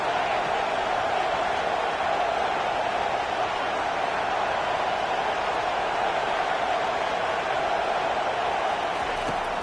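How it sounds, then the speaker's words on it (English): A college football home crowd roars behind its defense on third down, a steady, dense wall of cheering noise that holds at full volume for the whole stretch without letting up. "Decibels rising as the crowd gets behind this defense on 3rd down."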